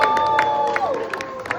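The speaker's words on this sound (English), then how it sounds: "let's give a round of applause for Blue." A crowd cheers and claps for the raptor Blue at a Jurassic World live show in Singapore, lively shouts and scattered applause over steady sustained tones.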